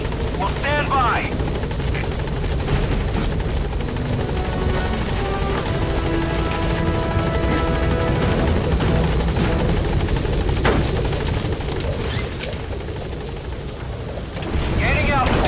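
Helicopter in the video game Metal Gear Solid V flying with a steady, loud rotor drone that persists throughout, with radio-style voices talking over it.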